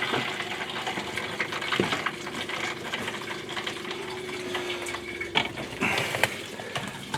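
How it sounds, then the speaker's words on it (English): Water runs steadily into a newly replaced RV toilet's flush, a continuous hiss with a few mechanical clicks and knocks from the fixture, close and alone. "we have running water in the flush"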